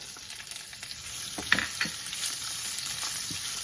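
Garlic cloves and ginger sauté in hot spices, a steady crackling sizzle with a few sharp stirring taps near the middle.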